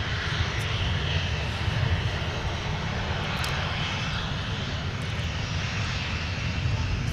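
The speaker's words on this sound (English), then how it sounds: "our former Northwest Red Tail 75 taxiing by in front of us" A former Northwest Red Tail airliner taxiing at MSP airport gives a steady, fairly distant engine roar and whine, even in level throughout with no talking.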